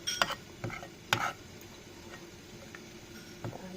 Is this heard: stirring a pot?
yes